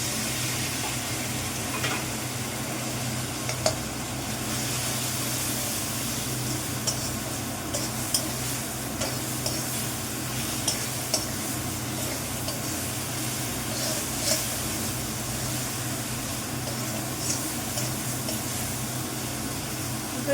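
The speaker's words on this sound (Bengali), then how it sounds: "আস্তে আস্তে মশলাটা সব কষিয়ে দিতে হবে" Ginger-garlic paste with spices is stirred and fried in a pan, a steady close sizzle with scraping stirs running throughout, with no talk.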